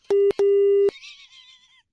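A phone is hung up: two short electronic tones sound, one brief then one longer, followed by a faint warbling electronic hiss that fades out.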